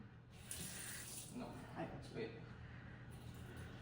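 Tap water runs steadily from a household faucet into a sink, a soft, constant hiss with faint clinks, and people talk over it.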